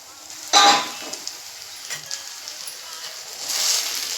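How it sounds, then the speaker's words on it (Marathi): A lid lifted off a pan of tomato egg masala, with a sharp metallic clink followed by a soft, low sizzle and faint clatter in a home kitchen. "आपण झाकण उघडून बघू."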